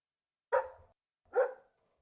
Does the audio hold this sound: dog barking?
yes